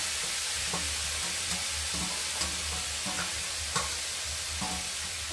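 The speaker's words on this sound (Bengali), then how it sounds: "তো দেখো তার জন্য নারকেলটাকে ঘুরিয়ে দিলে কড়ার মধ্যে" Grated coconut and sugar stirred in a wok (kadai), a steady soft scraping and gentle sizzle with repeated stirring strokes, close by and without talk.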